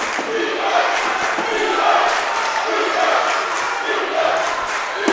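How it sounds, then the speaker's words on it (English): Valdez fans cheering at a high school girls' basketball game, a continuous roar of crowd noise with shouts rising and falling, echoing in a gym, with faint thuds from the court. "the Valdez fans here cheering for them to strengthen up their defense"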